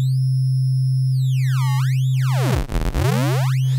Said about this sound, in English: we take a sine wave and we broke it, like Atari style